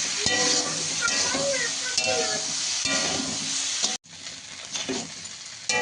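Chopped pointed gourd (potol) and potato frying in oil in a pan, a loud continuous sizzle with scraping stirring sounds, briefly cutting off and then resuming a bit quieter.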